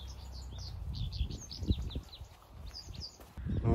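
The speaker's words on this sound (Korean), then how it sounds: "새소리가 너무 좋네요." Small birds sing and chirp in a busy overlapping chorus along a lakeshore, moderately close, with a low rumble of outdoor background beneath.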